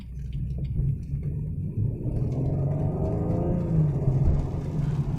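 A BMW 440i xDrive engine revs and pulls hard in a steady, loud, low rumble that climbs in pitch as the car accelerates, with no talking.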